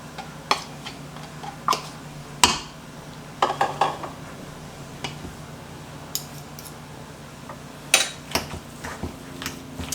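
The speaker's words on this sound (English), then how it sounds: "Mix this all together nicely." Ground meat, tomato sauce and cooked rice mixed together in a bowl as filling for cabbage rolls, heard as sharp, scattered clicks and clinks of a utensil against the bowl over a quiet background.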